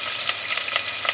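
Onions, curry leaves and chilies sizzle steadily in a hot pan for sambar, a loud continuous frying hiss broken by occasional stirring scrapes.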